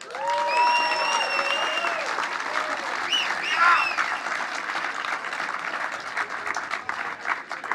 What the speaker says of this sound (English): let's give a real big round of applause for Matt Hoffman